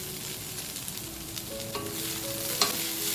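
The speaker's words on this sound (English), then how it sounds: "stir fry the rice together with the vegetables" Day-old cold rice and vegetables stir-fried in a pan for chilli garlic vegetable fried rice, giving a steady close sizzle with scraping and tossing strokes, plus a sharper clink near the end, and no voices.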